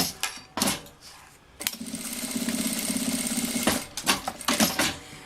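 A sewing machine stitches a strap onto a child's backpack, running in a steady burst of about two seconds between short start-and-stop spurts of stitching.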